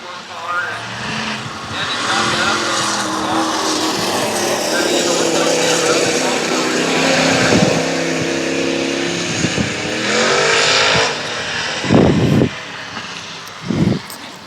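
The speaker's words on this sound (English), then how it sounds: "Heat race number 1 for the Peter Hall Super Stocks. 7 laps to go." Super stock race cars roar around a dirt track during a heat race, a steady loud engine drone with a few sharp bursts near the end, under continuous announcer commentary.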